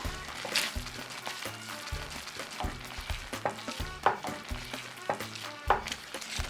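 Eggplant with fresh basil is stirred in a pan for pasta alla Norma, a spoon scraping in a steady rhythm over a soft sizzle, with regular low knocks from the utensil against the pan, close and alone.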